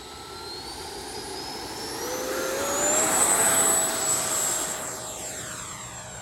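An FMS BAE Hawk Red Arrows model jet with an 80mm electric ducted fan taking off, a high whine rising in pitch and loudness as it passes close, then fading away.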